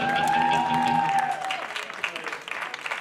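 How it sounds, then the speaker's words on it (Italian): An audience claps at an outdoor summer music show in Colobraro, with a crowd applauding as a sustained tone and lingering music fade away, then the clapping thins out toward the end. "Un applauso a Bogdan che si è prestato per questa cosa"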